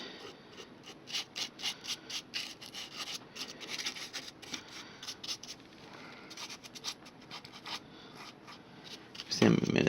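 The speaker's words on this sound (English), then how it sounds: "Get a little bit more of this copper and kind of brush it off. Brush off the excess." Bristles brush loose copper powder off the surface of a hand-built model catapult, giving rapid scratchy strokes in short bursts, close and fairly soft, with a louder rub at the end.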